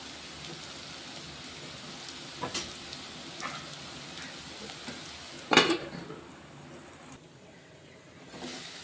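Carrot and fenugreek leaves frying in a pan, with a low continuous sizzle and occasional scrapes and clinks of a spoon, one sharp clatter near the middle, all fairly quiet and close.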